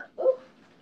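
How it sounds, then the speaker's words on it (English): A dog gives one short bark or yip, close and fairly loud, fading quickly into quiet with no talking. "Hush all that barking."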